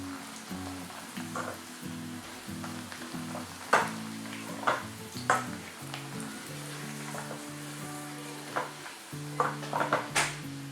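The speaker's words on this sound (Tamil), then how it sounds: "அடுத்தது வந்து அப்பளம் ஃப்ரை பண்ணுறேன்" Appalam (papad) frying in a pan for thogaiyal: soft sizzling under intermittent sharp clinks and scrapes of a utensil against the pan, fairly quiet and close, with no voices.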